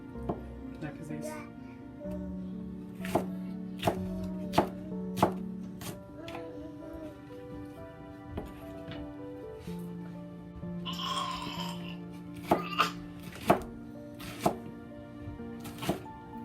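A knife cuts cauliflower on a board in a home kitchen, with crisp, sharp chopping strikes at an irregular pace, near and clear, while a person talks quietly between cuts.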